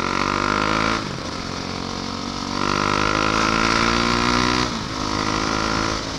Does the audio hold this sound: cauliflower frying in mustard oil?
no